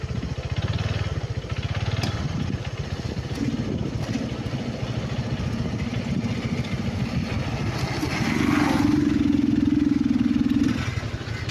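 An overheating motorcycle engine runs steadily at close range, its low throb rising briefly in pitch and loudness near the end, with street noise around it.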